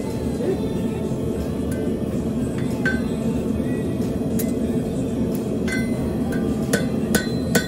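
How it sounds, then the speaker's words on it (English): Sharp metallic hammer blows from the flat face of a hammer strike forged metal at an irregular pace, ringing over a constant low rumble of background noise. "We use the flat part of the hammer. So we can work on getting it flat again."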